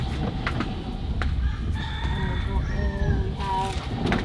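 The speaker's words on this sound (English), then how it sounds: "here's one of our chickens." A rooster crows nearby in Kauai, a long harmonic call rising and falling over a couple of seconds against steady background noise.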